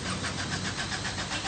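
An old car on the streets of Lima has its engine started and left running, a rough mid-pitched rumble that holds steady and fairly loud for the short stretch, with no voices over it.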